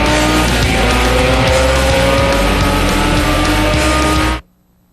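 Street stock Corvette race cars roar loudly through a Grand Am Cup Series race at California Speedway, their engines snarling continuously with tires squealing, before the sound cuts off abruptly near the end.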